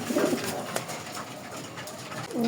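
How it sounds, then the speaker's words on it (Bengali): A pair of colored Rasgolla pigeons coo softly at close range, with a short burst of cooing at the start and another at the end over quiet background hiss. "এই জায়গায় আছে এক জোড়া আপনার রাসগোল্লা কবুতর, কালারিং রাসগোল্লা কবুতর"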